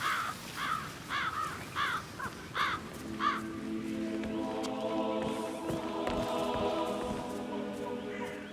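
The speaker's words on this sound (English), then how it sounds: "Damn birds! If I could just get a clear hit on those nests." A crow in the Hitman 3 mission "Death in the Family" gives about six loud, rhythmic caws in quick succession, then falls silent, leaving a soft, rain-like ambient bed with steady tones.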